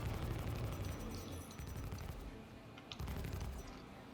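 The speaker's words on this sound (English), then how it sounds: "Keep moving, shooting, shoot and move." Rapid gunfire in Star Citizen, dense bursts of shots in a continuous barrage with a brief lull near the end before firing resumes, loud and close.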